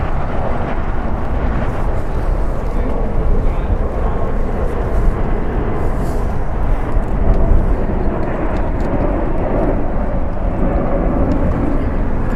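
Loud, continuous rumbling roar from an Atlas cargo jet at LAX, holding steady throughout with slight surges and no speech.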